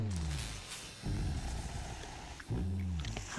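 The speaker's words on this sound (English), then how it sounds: "sounds like Virgil's growling" Deep, rough growls from Virgil, a character in a Project Moon video game, coming in three bursts about every second and a half, each a low throaty rumble with a faint harmonic edge.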